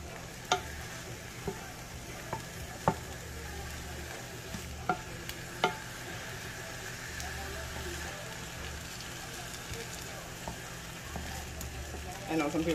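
Vegetables for stuffed bell peppers cook down in a single pot, a low constant sizzle with scattered sharp taps and scrapes as a utensil breaks them up, faint speech now and then.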